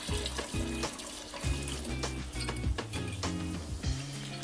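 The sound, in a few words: rice being washed in water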